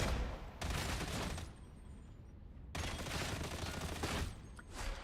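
Autogun fire in the Warhammer 40k Darktide video game: two long, loud bursts of rapid automatic shots separated by a short pause, with the second burst tapering into scattered shots.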